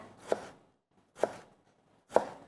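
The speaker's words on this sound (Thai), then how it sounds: "แตงกวาไม่ต้องหั่นบางมากนะคะ" Three crisp knife chops through cucumber against a cutting board, evenly spaced and close, with quiet pauses between and no talking.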